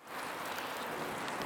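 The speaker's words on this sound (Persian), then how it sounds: "بارون میاد، خیلی سرده" Steady rain falls outdoors on a cold, rainy day in a forest setting, a continuous close hiss of drops with no talking.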